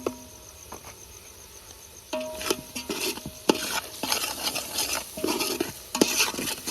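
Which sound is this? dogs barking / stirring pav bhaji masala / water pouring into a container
stirring pav bhaji masala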